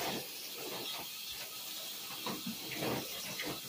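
Tap water runs and splashes as long hair is wetted during a hair wash, a soft, steady hiss with irregular gentle splashes, faint and close.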